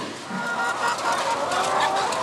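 A dense chorus of thousands of chickens in cramped battery cages clucking and squawking at once, a constant crowded din close by.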